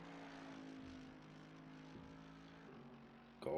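A race car engine at Brands Hatch gives a steady, droning hum with a strong low tone throughout, rising abruptly into a louder, sharper roar at the very end.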